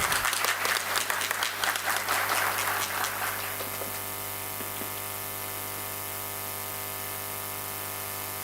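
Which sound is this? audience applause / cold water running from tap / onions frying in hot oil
audience applause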